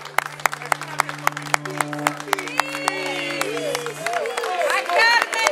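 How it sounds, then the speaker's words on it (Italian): Scattered claps and a building round of applause at an outdoor Christmas market concert after a dance performance, with sharp individual hand claps, sustained musical tones, and a voice speaking over the crowd as clapping thickens toward the end. "Forte applauso, veramente uno spettacolo unico."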